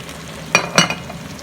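A spoon stirs beef meatball sauce with sweet potato in a pan, two short scraping clinks over a soft background sizzle, close and moderately quiet.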